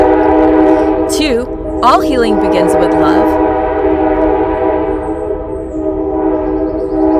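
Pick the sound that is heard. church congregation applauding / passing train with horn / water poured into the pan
passing train with horn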